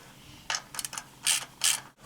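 A ratchet works loose the nuts on a Zenith 28IF carburetor, giving several short, close bursts of quick metallic clicking separated by brief pauses, fairly quiet overall.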